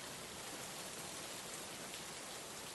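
Steady rain pours over a garden with flowers and a grassy area, a dense, even hiss of drops on leaves and ground, close and constant with no voices.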